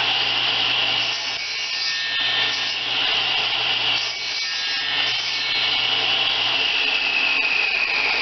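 A saw cuts through wood in a steady back-and-forth rasp, close and fairly loud, continuing for about eight seconds with no talking, while parts are trimmed for adjustable sliding pieces on a wobbling rocking project.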